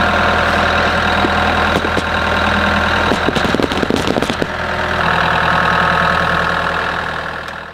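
A neighbor's tractor idles loudly and steadily on a homestead garden plot, with a rough, knocking mid-range engine rumble that briefly roughens and crackles around the middle before settling again.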